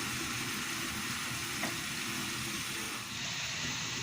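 Beef and potatoes fry in a pan with a steady, even sizzle, and quiet stirring sits under the constant hiss.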